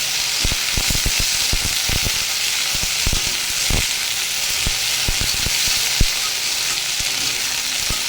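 Okra and potatoes sizzle loudly in a hot pan, a constant frying hiss broken by frequent soft knocks and scrapes of stirring.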